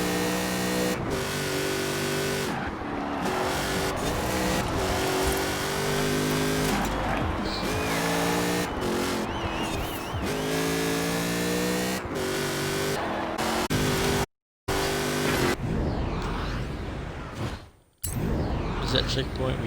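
An Alfa Romeo 155 Q4 race car in the Forza Horizon 4 video game revs hard and accelerates out of corners, its loud engine note rising and falling continuously with brief tire squeal, then cutting out near the end.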